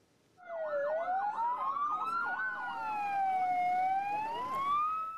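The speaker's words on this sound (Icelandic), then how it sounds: "Sjúkraflutningamenn og fréttamenn á Gaza tóku höndum saman í morgun og þeyttu viðvörunarflautur sjúkrabílana." Ambulance sirens blaring in Gaza, a loud close wailing tone that sweeps up and down with a fast warbling yelp layered over it, sustained for several seconds without speech.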